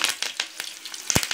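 Curry leaves dropped into hot oil for roadside-style chicken 65, crackling and popping in quick bursts with sharp spatters over a steady sizzle, close and fairly loud, no talk.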